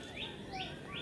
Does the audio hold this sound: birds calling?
yes